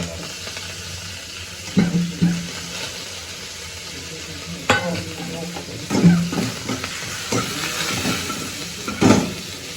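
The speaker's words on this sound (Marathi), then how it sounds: "आता हे थोडंसं तडतड भाजायला लागली जिरी" Soft sizzling with sporadic crackles and pops of cumin seeds in hot oil in a kadhai, plus occasional clinks of stirring, steady and close.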